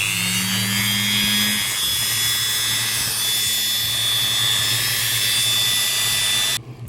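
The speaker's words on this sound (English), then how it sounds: "Now we'll start to clean this up with the Dremel." A Dremel rotary tool works on a cuckoo clock lift lever from a Black Forest Regula 25 movement, giving a loud, steady high-pitched whine that runs nearly the whole time before stopping abruptly.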